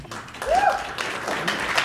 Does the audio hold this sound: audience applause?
yes